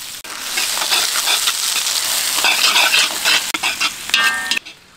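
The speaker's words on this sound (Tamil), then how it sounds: "கடலெண்ணெய் 150 ml, சின்ன வெங்காயம் 1/2 கிலோ, 6 பச்சை மிளகாய் போட்டுக்கலாம்." Shallots and green chillies frying in groundnut oil in a kadai, a loud continuous sizzle with stirring scrapes throughout, ending with a brief clatter before it drops away.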